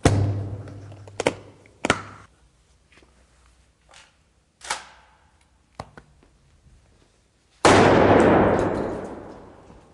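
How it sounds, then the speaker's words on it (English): A 12-gauge shotgun fired at a Pelican protective case outdoors, heard as several sharp, loud cracks and thuds spaced across the stretch, ending in a long, rushing blast that slowly fades, with no speech. "see what he can do with his 12-gauge shotgun"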